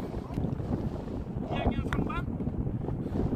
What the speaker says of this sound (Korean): 바람이 날씨 기준으로 보면 8, 9 정도 불고 있습니다